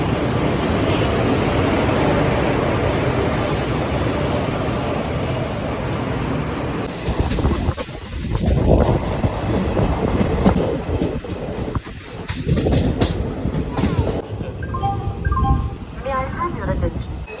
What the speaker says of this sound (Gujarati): તમે જોઈ શકો છો ટ્રેન આવી ગઈ છે.